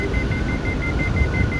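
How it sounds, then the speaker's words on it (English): A hang glider's variometer beeps while circling in a thermal, a rapid train of short, evenly spaced electronic tones heard over loud, rumbling wind noise. "it's not beeping all the way around the circle, as you can hear"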